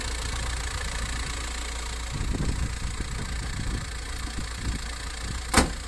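Volkswagen T5 van engine idling at a steady low rumble, continuous and fairly near, with a few faint knocks and a brief sharp click near the end; no talking.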